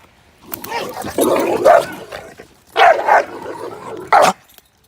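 A large off-leash dog in Whetstone Park lets out several deep, loud barks in close bursts, a long run at first and then two shorter volleys, with little else around them.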